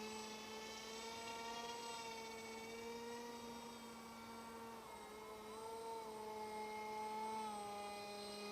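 An RC F18 jet with a 2216 2200Kv electric motor flies overhead, giving a continuous high whining drone that shifts slightly in pitch as the throttle changes, steady and moderately distant.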